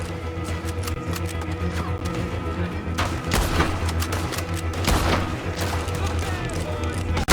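Gunfire crackles in Red Dead Redemption 2, with scattered shots and booming reports over a dense, rumbling game soundscape, loudest bursts in the middle of the stretch.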